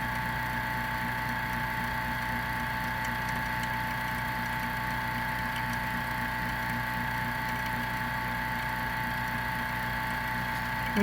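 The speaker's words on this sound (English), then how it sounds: "I like to run it through my vacuum chamber anyway because I think taking the bubbles out before kind of helps it cure faster" A vacuum chamber pump runs steadily while silicone mold rubber degasses, a constant droning mechanical hum at moderate level with no breaks.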